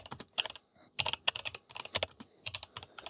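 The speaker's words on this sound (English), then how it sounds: "So I have to write it down from my keyboard." Rapid keystrokes on a computer keyboard while entering a plugin name for a DAW controller setup, a close, steady burst of irregular clicks with brief pauses, no talking.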